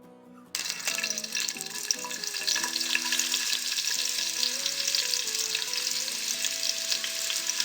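Thinly sliced onions frying in a pan with cloves and other whole spices, a bright steady sizzle starting abruptly and holding at close range with light stirring, over background music.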